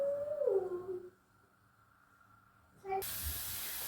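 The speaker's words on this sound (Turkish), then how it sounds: "Düdüklümüz işledi arkadaşlar." A pressure cooker's whistle rises and fades, then after a quiet pause a loud steady hiss of escaping steam bursts out and continues.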